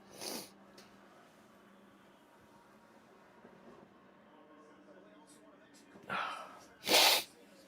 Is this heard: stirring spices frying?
no